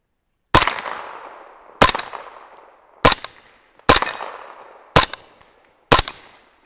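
Six sharp 300 BLK rifle shots fired with powder-coated bullets at steel plates on a range, each loud crack followed by a ringing tail, spaced about a second apart.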